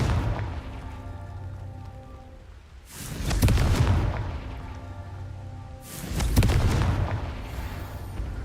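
Two heavy spell blasts from the Confringo curse in Hogwarts Legacy boom out about three seconds apart, each a loud broadband burst with a rumbling tail over a steady low ambient hum.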